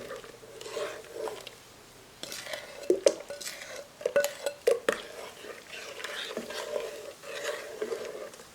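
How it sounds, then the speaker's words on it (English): A spoon stirs boiled custard in a light bowl held in one hand. Irregular scraping and clinking taps of the spoon against the bowl are up close, over a soft steady hum. "Now we're just going to be stirring."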